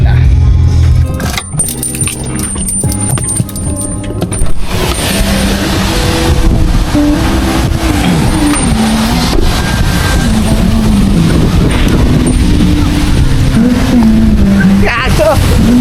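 Loud engine running and revving close by, pitch rising and falling, with people talking and shouting over it.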